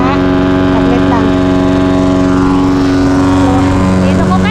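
A grass cutter runs loud and close with a constant droning engine hum that holds steady throughout.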